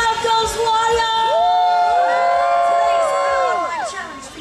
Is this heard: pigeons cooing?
no